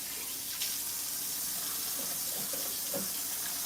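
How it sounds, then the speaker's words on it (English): Water running steadily from a sink tap during handwashing, a close continuous hiss with a few soft splashes and handling thumps, no talking. "Now I'm going to wash my hands, and my soap is right here."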